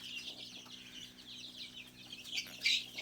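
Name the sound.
Sonali chicks clucking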